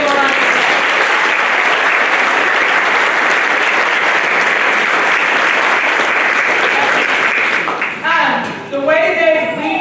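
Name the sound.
concert audience applause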